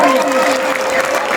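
Loud, continuous applause from a crowd at a local Kaun Banega Crorepati quiz event in Kunkuri, a dense, steady clatter of many hands with faint voices mixed in.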